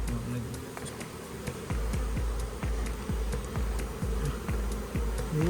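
A steady hum of buzzing honey bees from a flat-roof colony fills the air, with irregular tapping and clicking throughout and faint activity nearby.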